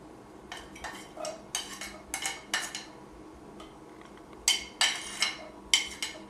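Chopped shallot and a chopped garlic clove go into olive oil in a pan with a utensil, producing a run of bright metallic clinks and scrapes in quick bursts, close and fairly loud, with brief gaps between.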